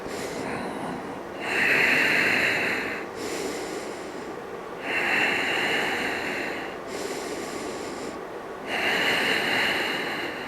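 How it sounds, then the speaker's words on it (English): Slow, deep breaths during a yoga hold, each a long hissing rush of air through the nose lasting a second or two, repeated three times in an even rhythm, close and fairly loud with quiet gaps between. "breathe into your belly"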